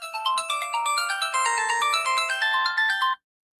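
A phone ringtone plays loudly for about three seconds, a bright repeating melodic pattern that cuts off abruptly, with no talking over it.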